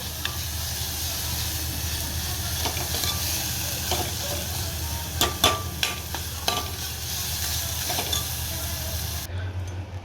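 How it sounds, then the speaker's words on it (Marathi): Vegetables coated with chili powder, salt and turmeric sauté in oil, giving a steady close sizzle and hiss with a few sharp clicks of a spoon against the pan. "तिखट मीठ हळद सगळं याच्यामध्ये टाकलेलं आहे तर छानपैकी जरा परतू देते जर तेल सुटेपर्यंत"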